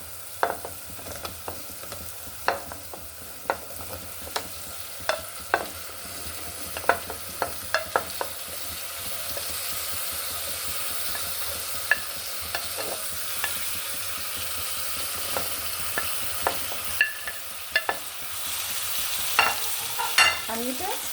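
Vegetables and dried fish (shutki) stir-fried in a pan, with a steady sizzle broken by a string of sharp spatula scrapes and clinks against the pan, close and moderately loud, with no talking.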